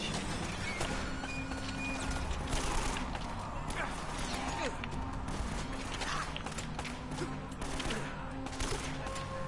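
Gunfire in the video game Uncharted: Drake's Fortune, a steady run of shots and mechanical clatter under constant loud game ambience, with little variation in level.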